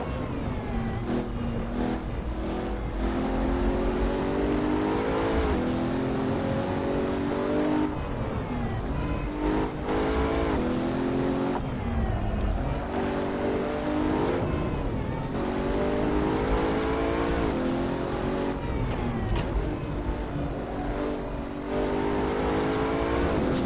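A Pagani Huayra engine in the Assetto Corsa racing game at the Nordschleife revs loud and close, climbing through the gears again and again with brief shift dips, sustained throughout.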